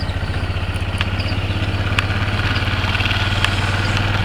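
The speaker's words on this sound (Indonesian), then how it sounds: "Kalian putar searah jarum jam ke kanan sampai putaran motor kalian" A Yamaha MX motorcycle engine idles at raised RPM after a carburetor adjustment, a close, steady fast putter with light mechanical clatter and no voices.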